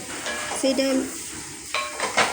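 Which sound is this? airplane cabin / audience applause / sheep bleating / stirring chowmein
stirring chowmein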